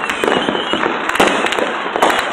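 New Year fireworks burst close and loud in rapid, crackling succession, dense popping and bangs filling the air continuously.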